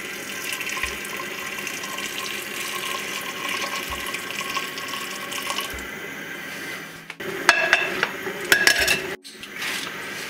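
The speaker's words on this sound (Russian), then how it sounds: "Я добавляю прям кипяток для того, чтобы быстрее дальше этот процесс" Boiling water is poured into buckwheat in an Afghan kazan, a watery pouring and splashing that builds toward the end with metallic clinks and stirring, with no talk.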